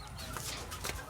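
Hens cluck and chicks peep together on a chicken farm, a brief busy flock chatter heard up close.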